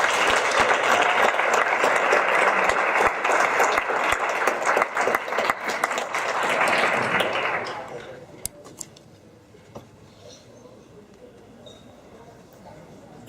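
A convention audience at a costume contest breaks into loud, dense applause for about seven seconds, then it fades to scattered claps and quiet room noise.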